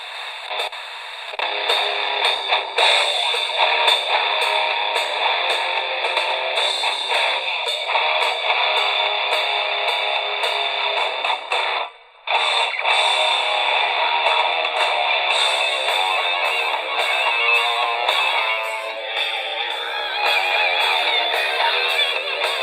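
A cheap pocket DSP radio switched on and tuned to the FM band plays a station continuously, thin and mid-heavy with a hissy edge and a brief dropout near the middle, loud and close with no speech over it.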